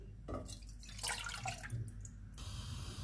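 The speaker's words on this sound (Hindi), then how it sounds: "पैन में हम पानी डालेंगे" Water streams into a cooking pan for masala chai, a soft, close pour with faint dripping and gurgling over a steady low hum, no voices.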